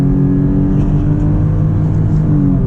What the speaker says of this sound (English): Some first gear acceleration.